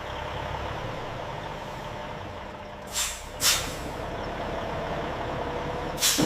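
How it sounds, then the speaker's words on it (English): Delivery trucks at a factory loading dock idle in a low, continuous rumble, with three sharp air-brake hisses, two close together and a third near the end, and no voices. "Trucks arrive for delivery."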